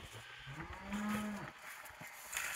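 Cattle on a homestead lowing loudly at evening feeding time, a long drawn-out moo swelling in the middle with shorter calls around it, close by, with no talk.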